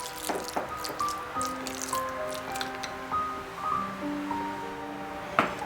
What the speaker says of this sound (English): Stir the meat until all the liquid has been absorbed and set it aside.